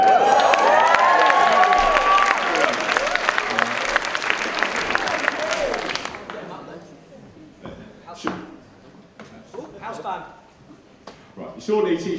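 Loud applause and cheering from a crowd for a band at a school rock concert for about six seconds, then fading to scattered claps, thumps and murmuring voices.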